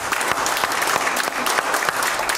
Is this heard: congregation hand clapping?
yes